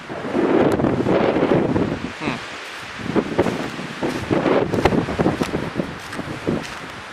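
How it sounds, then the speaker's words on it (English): Wind gusts around an outdoor spot at roughly 10,000 feet elevation, loud rushing surges that rise and fall unevenly, strongest at the start and breaking into shorter blasts later. "Anyway, it's pretty windy, and this is fairly high elevation."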